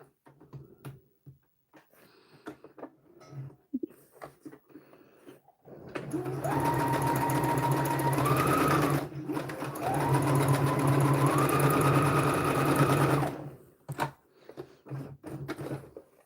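A sewing machine runs a zigzag stitch in two long steady passes of several seconds each, with a brief pause between them, loud and close, with quieter handling noises before and after.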